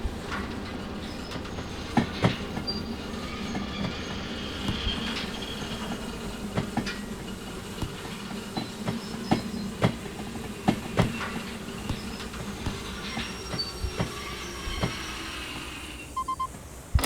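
Locomotives shunting at a steel mill in the Derail Valley train game: a steady rumbling drone with repeated clickety-clack wheel knocks and occasional faint hissing, continuous throughout with no talk.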